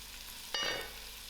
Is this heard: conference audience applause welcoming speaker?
no